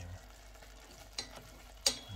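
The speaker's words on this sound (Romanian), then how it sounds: "Amestec un pic" Meat being stirred in a covered pot as it releases its juices, two short scraping clatters standing out over a quiet, low simmering background.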